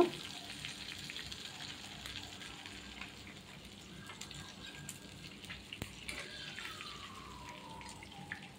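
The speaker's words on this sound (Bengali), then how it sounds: "তো মাছটা আস্তে আস্তে ভেজে নিচ্ছি" Fish frying slowly in a pan until crisp, a faint steady sizzle with light clinks and watery kitchen noise, no talking.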